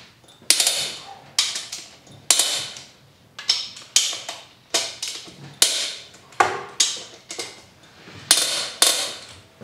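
Repeated sharp metallic cracks and clacks as a wrench breaks loose the cylinder bolts on a Harley-Davidson M8 107 engine during teardown, a dozen or so close, loud hits in an uneven rhythm with quiet gaps between.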